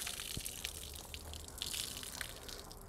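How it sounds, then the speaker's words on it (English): A car wash mitt is wrung out over a bucket during a foam wash. Quiet, continuous trickling and dripping water sits close by, and no one speaks. "you can go ahead and thoroughly wring it out again"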